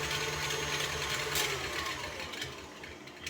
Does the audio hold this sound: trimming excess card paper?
no